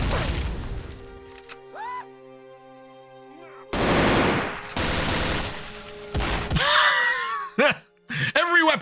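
A player in a Doom mod unloads every weapon in his arsenal on one enemy: a loud, dense barrage of gunfire and blasts in overlapping bursts, with whooshing and ringing effects, breaking off briefly and resuming in heavy staccato volleys.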